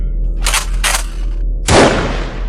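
A shotgun fired inside a kitchen at a creature: two short, sharp bursts come first, then a loud, close blast with a long, decaying tail.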